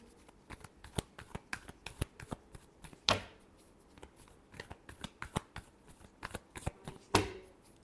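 Tarot cards shuffled by hand in a rapid riffling run of crisp flicks and slaps, close and fairly quiet, with two louder bursts near the middle and end and no talking.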